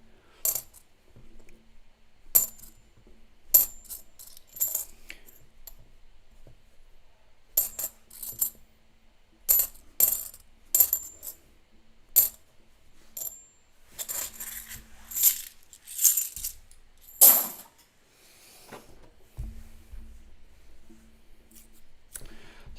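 Half dollar coins are handled from rolls, repeated sharp metallic clinks and clattering taps in irregular bursts, close and clear against a quiet background.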